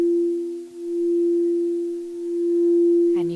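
A crystal singing bowl rings at 432 Hz with a pure, sustained tone that gently swells and fades in slow waves. A brief warbling chirp enters just before the end.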